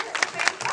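Brief scattered clapping from an audience at a sea lion show comes in a few quick bursts under a talking voice.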